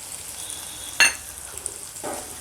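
Chopped onions with a little salt sizzle softly in a pan during mutton cashew curry prep, with a sharp metallic spatula scrape and a second stirring swish over the quiet frying, no talk.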